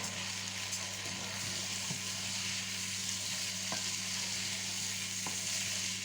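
Lentils tipped into a pot with petit salé pork, a steady low sizzle and soft stirring scrapes running continuously, close and fairly quiet, with no talking.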